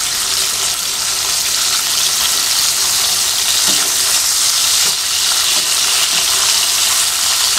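Eggplant slices fry in oil with a loud, continuous hiss and crackle that holds steady from start to finish, with a few soft clicks of stirring and no talk.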